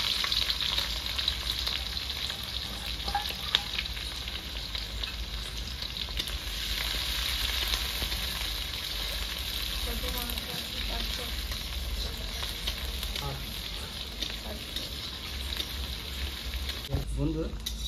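Chopped onions sizzle and fry steadily in a pan for a village-style gandhoraj chicken dish with cardamom, a continuous close hiss with small stirring clatters, under occasional faint talk.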